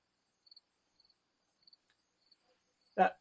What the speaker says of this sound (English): That cricket is still chirping away.